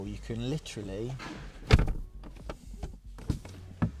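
A Rolls Royce Cullinan's powered door pulls itself shut with one solid thunk partway through, while a person talks over it before and after.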